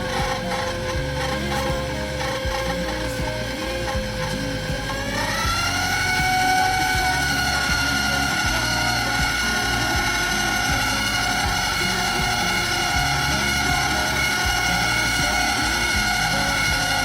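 A stand mixer slowly whisks seven cups of flour on low speed, giving a steady motor whir with a faint scraping rub. Partway through, the tone steps up in pitch and grows slightly louder, then holds evenly.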